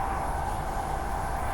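A passenger train rolls along the rails toward Bassendean, giving a steady, continuous rumble and hiss from inside the carriage with no voices over it.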